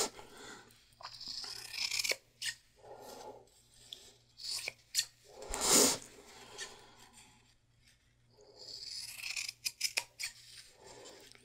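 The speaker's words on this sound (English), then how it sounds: "here we go with the Kais" Kai scissors cutting through denim fabric in a series of crisp snipping and crunching strokes, close and fairly quiet, with short pauses between bursts and one louder rasping cut near the middle.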